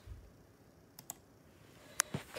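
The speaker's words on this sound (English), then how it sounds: "let me type in my passcode real quick" A few isolated clicks from a gaming PC keyboard as a passcode is entered, quiet and sparse with short gaps between taps over faint room hiss.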